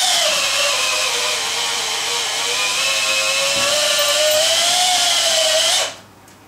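A power drill bores steadily into a steel file, a loud continuous high-pitched whine with a slowly shifting tone that runs alone for about six seconds, then cuts off abruptly.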